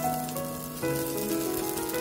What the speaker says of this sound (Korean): 식용유, 참기름, 파를 넣고 파기름을 내고